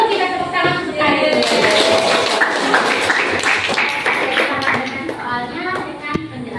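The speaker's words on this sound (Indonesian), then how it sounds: "Kalau begitu kita tepuk tangan untuk Karin." A classroom of students clapping for a classmate, a dense burst of many small hands applauding close by that gradually thins out, with children's voices mixed in.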